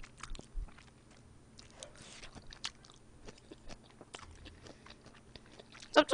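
Quiet, close-up chewing of udon and chicken salad with soft wet smacks and crunchy bites, irregular and intimate, ending in a couple of louder clicks.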